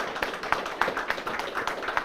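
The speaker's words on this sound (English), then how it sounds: "So right now, everybody give a round of applause here to Jenny Easterling." A small audience applauds an honoree at a community event, with distinct claps landing in a loose, fairly regular rhythm. It sounds thin and moderately close rather than a full roaring ovation.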